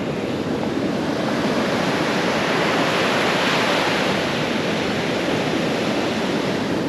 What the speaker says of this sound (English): The waves just go on and on and on.